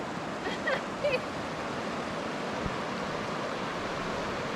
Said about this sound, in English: So we stopped at this lovely river.